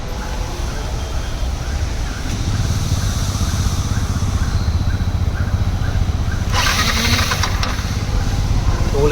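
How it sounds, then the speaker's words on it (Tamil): A Yamaha MT 15 motorcycle's self-starter motor whirs loudly and steadily up close while the engine fails to catch, with a short hissing burst near the end. "செல்ஃப் மோட்ரு மட்டும்தான் ஓடுது, இன்ஜின் ஸ்டார்ட் ஆக மாட்டேங்குது."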